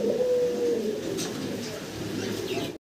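Bombay fancy pigeons cooing close by, a low rolling coo sustained over the first second, then softer murmuring coos under steady background hum.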